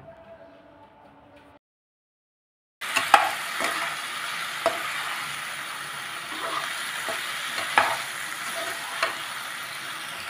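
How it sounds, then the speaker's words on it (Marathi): Semolina (rava) balls sautéing in a pan over low heat: after a brief quiet gap, a steady soft sizzle sets in, with occasional clicks and scrapes of stirring, close and moderate in volume, no talking. "आता यात आपण रवा बॉल्स ॲड करूया आणि ते व्यवस्थित परतून घेऊया"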